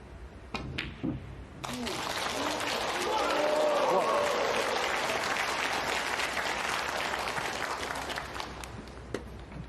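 A snooker crowd at the Shanghai Masters bursts into sustained applause after a shot in a Ronnie O'Sullivan versus John Higgins quarter-final, swelling quickly and holding steady, loud and close, after a couple of faint clicks at the start.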